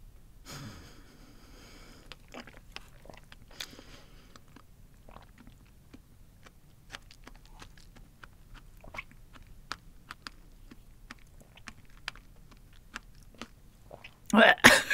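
Close-up chewing of food spread with Vegemite and eaten with two pieces of fruit: soft wet mastication, small crunches and nasal breathing, quiet and steady, ending in a louder burst of noise.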